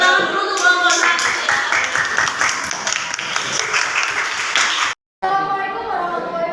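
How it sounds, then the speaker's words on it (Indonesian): Students in a classroom applaud the first presentation group, dense clapping filling the room for about five seconds, cutting off briefly, then resuming more faintly under voices. "Kita beri tepuk tangan dulu untuk kelompok satu"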